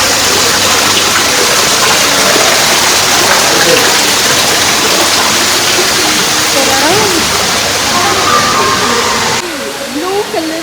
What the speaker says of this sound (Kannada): ಇಲ್ಲಿ ಬರೀ ನೀರು ಹೋಗ್ತಿರೋದು ಅಷ್ಟೇನಾ